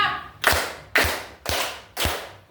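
Children clapping their hands in a counting game give four sharp, evenly spaced claps about half a second apart, each ringing briefly in a small room.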